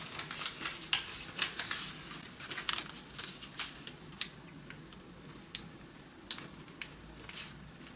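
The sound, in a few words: folding origami paper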